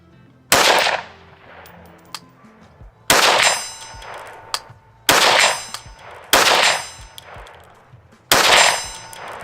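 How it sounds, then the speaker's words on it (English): Five loud rifle shots fired at steel targets 100 yards away come at spaced intervals. Each report trails off with a ringing metallic clang, with faint knocks between shots. "Let's see if we can hit some steel at 100 yards plus with the brand new Vector Optic Frenzy."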